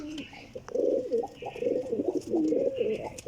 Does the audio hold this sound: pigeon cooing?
yes